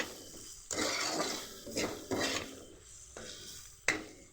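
Potato pieces frying in a pan for masala pasta, a quiet sizzle with several scraping stirs and a light clink of the utensil against the pan, with no talk.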